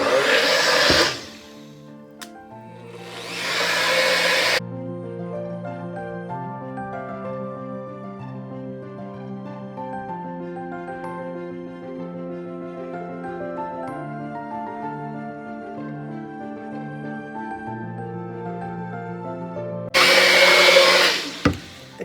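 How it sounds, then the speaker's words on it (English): A large soap mixer whips a soap batter with loud, steady whirring bursts, one at the start and a second near the end, with quieter background music in between. "pulse this through with my new humongous soap mixer"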